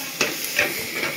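Tomatoes for chole curry being stirred in a pan while they soften in oil, a few scraping strokes over a steady low sizzle, close and moderately loud.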